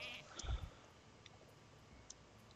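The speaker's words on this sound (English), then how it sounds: "Nope, and transform him into a sheep." A sheep bleats in the card game Hearthstone after a minion is polymorphed, one short low bleat over a quiet game background with faint clicks and ticks.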